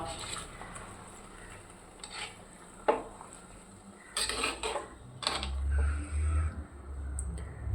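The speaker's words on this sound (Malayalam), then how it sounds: "ഒന്ന് ഇളക്കി യോജിപ്പിക്കാം നമ്മൾ ഇളക്കി യോജിക്കുമ്പോൾ ഇത് പൊടിഞ്ഞു പോകാണ്ട് സൂക്ഷിക്കണം കേട്ടോ" Kerala-style anchovy peera, a netholi mixture, stirred in a pan with a utensil, heard as soft intermittent scraping and clinks, a few sharper knocks, and a low rumble underneath.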